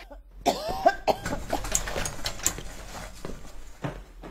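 An actor performs a staged cough, a series of sharp, irregular hacking bursts close to the microphone, followed by rustling and shuffling movement.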